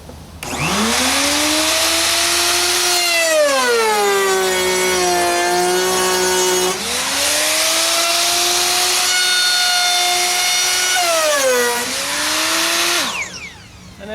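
A router cuts a flute into a wooden column being repaired, one continuous loud pass with a steady high motor whine that dips and rises in pitch as the bit loads into the wood, then stops abruptly at the end.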